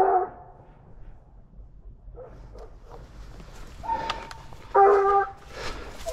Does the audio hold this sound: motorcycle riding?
no